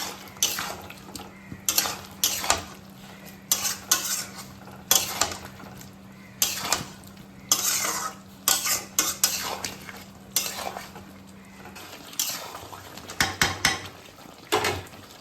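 Prawns being stirred into a curry in a pan with a spoon, a run of repeated scraping and clattering strokes against the metal over a soft simmering sizzle, close and clear with no talk.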